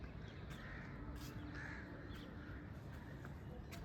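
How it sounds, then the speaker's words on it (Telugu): Crows caw outdoors in the morning, a few faint repeated calls scattered through steady background hiss, no talking. "ఇక్కడ కాకులు కూడా వరుతున్నాయి."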